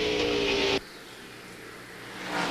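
Onboard engine of Greg Biffle's NASCAR Busch Series race car, 2001, roaring loud and close for under a second, then cutting to a much quieter, hollow rumble that builds again at the end.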